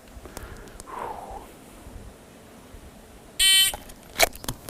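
A shot timer gives one loud, steady electronic beep at an outdoor range, followed shortly by a few sharp, brief impacts against faint background noise.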